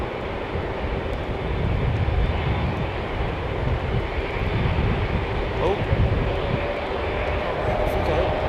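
An airliner on short final approach at London Heathrow Airport on a breezy afternoon: a steady, loud broadband engine roar and rumble that holds for several seconds and swells slightly midway.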